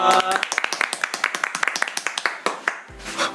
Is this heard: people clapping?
yes